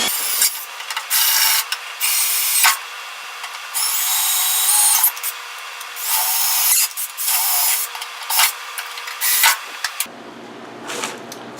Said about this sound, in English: so I'm going to have to drill those out